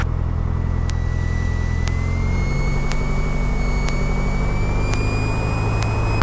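A light aircraft's engine drones steadily at close range while taxiing to the holding point, a loud constant hum with a faint rising tone and regular soft clicks, no talk heard.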